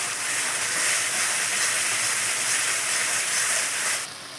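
Prawns fry in a thick spice paste in a Bengali prawn kalia, giving a steady, loud sizzling hiss that holds evenly and eases off slightly right at the end.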